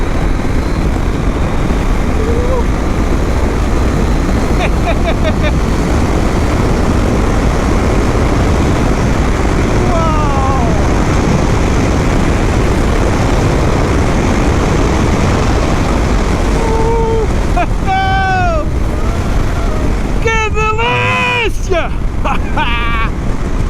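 A 2023 KTM 890 SMT motorcycle rides at speed with a quickshifter, loud wind roar carrying the engine as it rises and drops through several quick revs and gear changes, with a rider talking over it.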